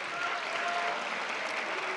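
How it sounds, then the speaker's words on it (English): Audience at a college convocation applauding Robinhood, a steady, dense wash of clapping from many people that holds evenly throughout. "Let's give Robinhood a big round of applause."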